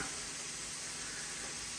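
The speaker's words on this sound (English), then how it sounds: "Let's take the lid off it to let the steam escape." Steam escapes with a steady, loud hiss from a pot of freshly cooked rice as its lid comes off, a continuous broadband rush with no pauses.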